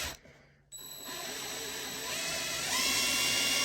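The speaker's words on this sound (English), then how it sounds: "You can feel when the drill bit hits that other piece." A power drill drives a screw into a wooden bird feeder. After a brief quiet moment it starts with a close, steady whine, and the whine grows slightly louder and brighter toward the end.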